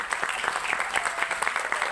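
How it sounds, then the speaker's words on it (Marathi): Audience applauding the cast of a play, a continuous bed of many hands clapping with distinct individual claps standing out in an uneven rhythm. "त्यांच्यासाठी जोरदार टाळ्या"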